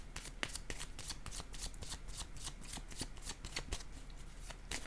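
Tarot cards being shuffled and handled before a card is drawn, a close, steady run of rapid papery riffles and flicks with no talk over it.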